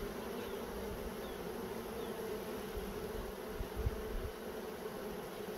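Honeybee workers buzz in a steady, dense drone while being moved into a Flow Hive, the swarm sound continuous and fairly close with slight swells, no voices over it.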